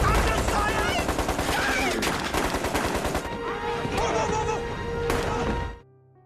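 Rapid automatic rifle fire in a WWII film battle scene, with dense bursts of shots and clattering impacts, loud and close, ending abruptly.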